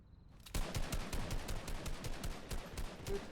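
Rapid automatic gunfire from the Fortnite battle royale video game, a dense burst of shots in steady quick rhythm that starts abruptly after a short quiet lead-in and carries loud to the end.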